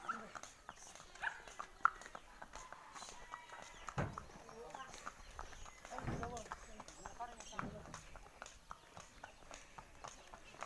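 Horse hooves clip-clopping at a walking pace over ground, irregular and fairly faint, with outdoor background noise and a dog nearby.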